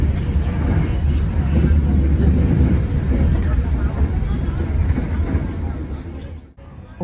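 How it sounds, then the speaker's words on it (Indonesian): Interior of a moving Airlangga economy passenger train between Surabaya and Jakarta: a loud, steady low rumble and hum of wheels and carriage fills the space continuously, with a brief dip near the end. "suasana di dalam kereta"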